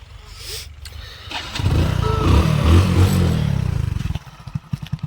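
A slightly smoking motorcycle engine starts and revs loudly nearby for a few seconds, then settles into an uneven, sputtering idle.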